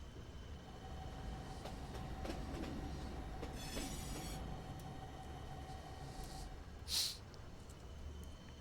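A train in the war game Foxhole rumbles steadily with a low drone, faint clicking and a brief sharp squeal near the end, with no talking.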